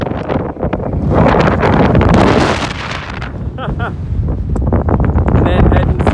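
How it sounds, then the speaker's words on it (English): Strong wind buffets the microphone on an exposed hilltop cairn on East Lomond, a loud, continuous roar and rumble that swells and dips without letting up. "It is windy."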